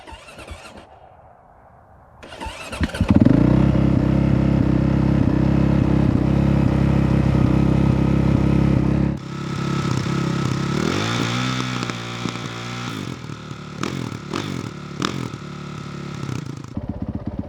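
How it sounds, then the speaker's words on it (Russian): A 2017 Honda CRF450RX motocross motorcycle engine starts cold at minus five degrees. After a starter whir it catches and settles into a loud, steady idle close by, then goes through a series of sharp throttle blips and revs. "Посмотрим, что же за стартер на этом мотоцикле."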